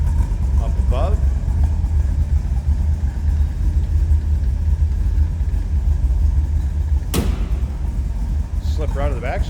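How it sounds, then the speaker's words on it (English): A small-block V8 idles in a 1931 Ford Model A roadster pickup street rod, a steady low rumble heard close up, with a sharp brief knock partway through and faint voices. "Nice little rumble coming out of that small block"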